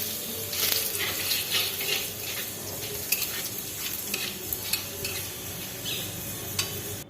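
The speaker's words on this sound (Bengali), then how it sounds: "আর শুকনো লঙ্কা দুটো মেথি পাতা একটু করে দেব এবার মেথি পাতা দিয়ে দিচ্ছি" Dried red chillies, bay leaf and fenugreek leaves frying in oil in a pan, a steady hissing crackle with occasional sharper pops and spatula knocks, close and continuous without any talking.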